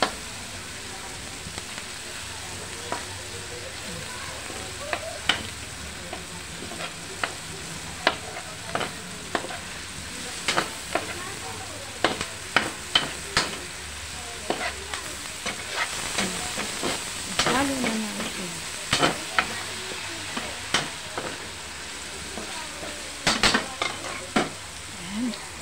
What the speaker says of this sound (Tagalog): Saluto na rin yung kamatis.